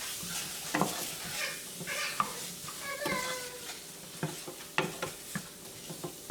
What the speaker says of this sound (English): What we're gonna do is saute 1/2 onion.